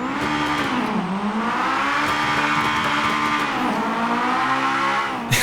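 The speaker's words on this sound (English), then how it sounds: "You can hear that deep little VTEC growl kick in" A simulated Acura RSX Type-S engine in GTA 5 revs hard and loud with a VTEC growl, its pitch climbing, dipping with gear changes and climbing again, with a reverberant, enclosed tunnel echo.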